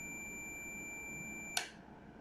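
A continuity tester gives a steady, fairly quiet high-pitched electronic beep through a contactor's normally closed contact. A sharp click then cuts the tone off abruptly.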